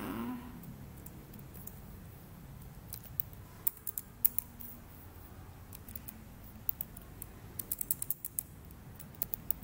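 Someone types a username on a computer keyboard, a quiet scatter of irregular key clicks over a faint background hum, with no voices.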